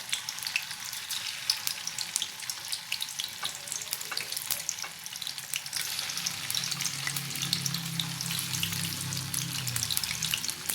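Tofu sizzles and crackles in hot oil, a steady close-up frying hiss with a low bubbling rumble growing in the second half.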